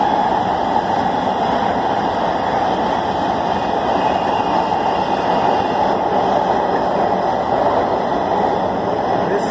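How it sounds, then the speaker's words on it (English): Los Angeles Metro Red Line subway train riding between stations, a loud continuous roar of wheels and rails heard from inside the car, steady throughout without talk. "This is the rip roaring train."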